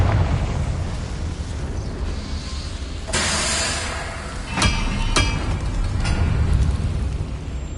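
A Confringo fire spell cast in the Hogwarts Legacy game erupts in a broad, roaring blast, then several sharp explosive cracks follow over a dense, rumbling background of in-game noise.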